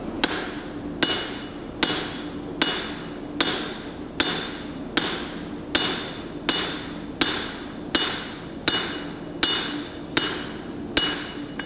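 A steel knife blade is hammered on an anvil to forge a distal taper, with fourteen evenly spaced, loud ringing metallic blows about one every 0.8 seconds and no talk.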